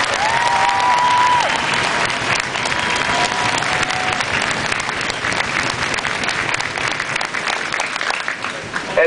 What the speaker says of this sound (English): Please give me a round of applause for the cadre and their families.